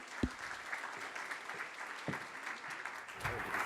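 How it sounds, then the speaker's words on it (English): Audience applause for a finalist presenter at a beverage pitch competition, a steady patter of clapping running evenly throughout with a few louder thumps near the start and end. "Round of applause."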